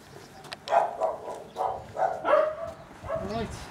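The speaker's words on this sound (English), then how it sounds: "I love these dogs barking" Dogs bark a few times in short, uneven bursts at moderate distance, with some whimpering and background noise.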